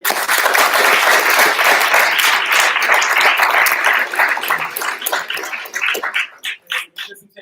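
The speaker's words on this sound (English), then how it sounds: "Just another round of applause for them." Applause from an audience clapping for groups that presented at a Foxes Den UCT 2018 event: dense, steady crowd clapping that thins toward the end into scattered, separate claps.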